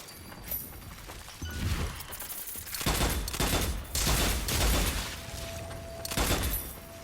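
Rapid gunfire from the zombie shooter Zombie Army 4: dense, loud volleys of shots in repeated bursts with short pauses between them, with no talk.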